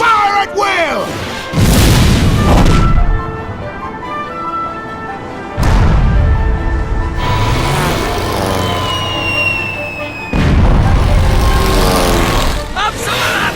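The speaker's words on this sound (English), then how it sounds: "Now, men! Prime the cannons!" Cannons firing in the video game Ni no Kuni: Wrath of the White Witch, three heavy booming blasts at regular intervals, each followed by a rumbling, crashing tail, with voices and game sounds between them.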